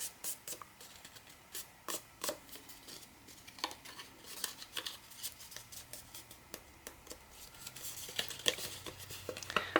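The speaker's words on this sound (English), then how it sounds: "now we are going to cut this excess off" Scissors snip through excess watercolor paper in a run of quick, crisp cuts, close and fairly quiet, with rustling of the sheet between strokes.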